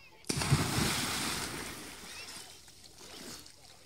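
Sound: splash of someone jumping into a village canal

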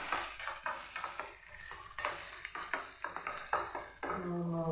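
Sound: chili powder frying in oil for lemon pickle

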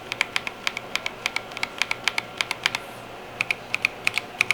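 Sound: typing on mechanical keyboard crystal switches

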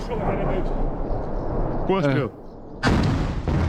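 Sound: gunfire and rocket fire in combat, Ukraine

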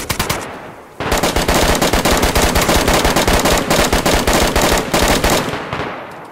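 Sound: gunfire, from video game DayZ

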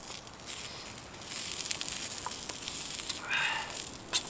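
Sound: asparagus frying in coconut oil on a camp plate

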